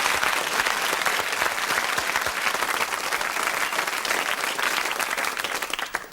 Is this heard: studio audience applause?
yes